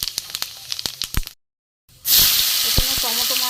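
Cumin seeds dropped into hot oil left from frying rohu fish burst into a loud, close hiss after a brief silence, following a few clinks of a utensil on the pan.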